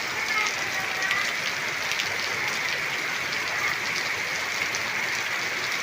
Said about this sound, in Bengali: বাতাস খুব কম বাতাস নেই শুধু বৃষ্টি